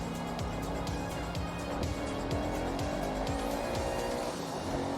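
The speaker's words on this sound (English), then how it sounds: "A nice power slide on exit is not that bad." A Mustang power-sliding out of a mountain touge corner in Forza Horizon 6, its engine revving hard and steadily with repeated gear shifts while tires squeal through the slide, loud and close throughout.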